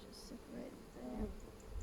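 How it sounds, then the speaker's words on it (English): Honey bees buzz in a soft, continuous drone at an open hive during the first inspection of the year, heard at low volume without clear breaks. "let those bees continue"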